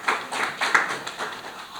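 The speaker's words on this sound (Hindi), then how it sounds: "उसके लिए एक बार ताली बन जाए." An audience claps at a budget discussion event, a soft, fairly distant patter of applause with uneven rhythm that stays steady throughout.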